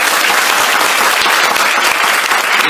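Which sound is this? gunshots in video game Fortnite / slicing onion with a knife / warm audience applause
warm audience applause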